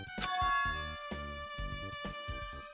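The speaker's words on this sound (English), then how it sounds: "It's like this high-pitched alarm clock sound." A high-pitched alarm clock ringing upstairs in the Danganronpa 2 video game, a bright metallic ding repeating in quick rhythmic bursts with sustained ringing overtones, loud and alone.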